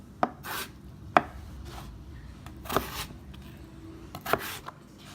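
A knife cuts potatoes into thick homemade fries on a board. Four distinct, close chops ring out at uneven intervals, with faint rubbing sounds and quiet handling between them.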